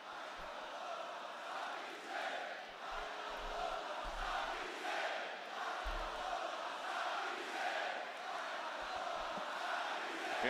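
A WWE SmackDown arena crowd chants during a match between Sami Zayn and Cardona, its rhythmic swelling chants split between the two wrestlers, a broad, distant roar heard faintly and steadily with no voice in front.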